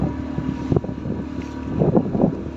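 A speedboat engine drones steadily while towing a boat whose main engine has broken down, heading back from Pulau Lemong, its low hum mixed with gusty wind buffeting across the open water.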